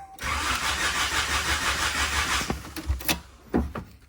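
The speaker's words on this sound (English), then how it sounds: "In Jesus' name, I pray this car starts" A turbocharged Honda Del Sol engine cranks steadily for over two seconds without catching, then gives a few short, sputtering bursts as it struggles to start, close and loud.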